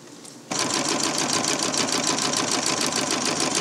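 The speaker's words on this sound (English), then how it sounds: "I'm just going to sew a straight stitch right along that" A sewing machine starts up and runs a continuous straight stitch along the baffle of a DIY bridge underquilt, a fast even mechanical chatter heard up close and alone.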